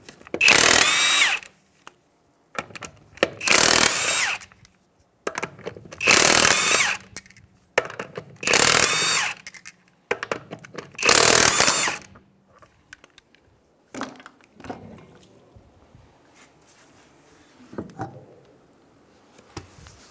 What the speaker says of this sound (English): We'll go ahead and take off our lug nuts now.